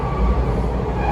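A Toronto TTC subway train on Line 2 gives a steady, loud rumble of wheels and motors, heard from inside the car with no talk.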